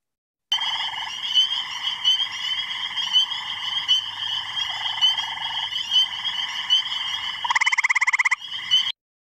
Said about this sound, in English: you'll hear peepers and tree frogs in the background